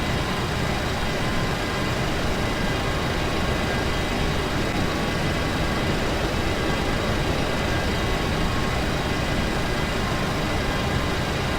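Boeing 727-200 jet engines roaring steadily during a takeoff roll in a flight simulator, a loud, continuous broadband rumble and hiss sustained without a break.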